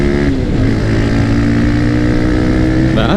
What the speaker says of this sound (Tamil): பேக்கில் உட்காரும் போது தாங்க அந்த சைலன்சர் சவுண்டு வேறு லெவலில் கேட்குது.